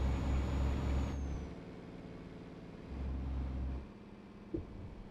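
Truck air brake in a driving simulation game, a steady engine rumble giving way to a brief hiss of released air and a short mechanical thump near the end, with no talking.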